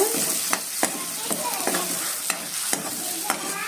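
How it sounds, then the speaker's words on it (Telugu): Ginger garlic paste frying with onions in a pan, a steady close sizzle under regular clinks and scrapes of a spoon stirring, no speech. "అల్లం వెల్లిపాయ అనేది పచ్చివాసన అనేది పోయేంత వరకు వేయించుకోండి"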